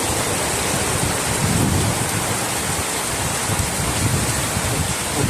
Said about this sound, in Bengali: প্রচুর পরিমাণ বৃষ্টি হইতেছে